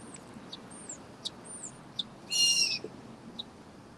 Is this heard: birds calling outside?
yes